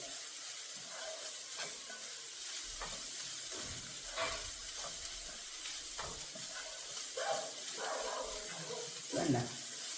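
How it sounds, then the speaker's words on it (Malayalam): Vegetables sizzle steadily in a hot pan as they are stirred with salt, with soft scraping and clinking from the spoon over a constant hiss. "ഇതിലേക്ക് ഞാൻ കുറച്ച് ഉപ്പും കൂടെ ചേർത്ത് കൊടുക്കുക നന്നായിട്ട് ഇളക്കി കൊടുക്കുക"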